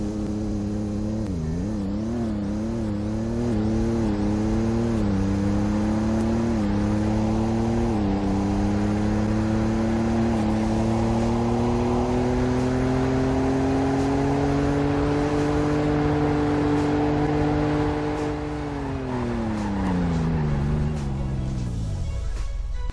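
Car engine in the Roblox game Greenville revving up through several gear shifts toward a limiter a little above 4,000 RPM, a loud steady whine with stepped rises, holding high before winding down at the end; no talk.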